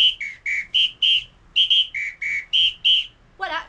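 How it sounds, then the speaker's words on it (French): A samba whistle plays a rhythmic pattern of about a dozen short, sharp two-pitch blasts in syncopated groups, loud and close, alone, ending in a brief trill. "il va siffler le rythme de la samba"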